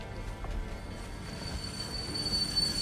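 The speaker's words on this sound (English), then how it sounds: "The train made a piercing sound of brakes and came to a stop on the platform after a burst of sparks." Train brakes screeching as a train stops at a platform in the video game Girls' Frontline 2, a thin sustained metallic squeal over a soft rolling rumble.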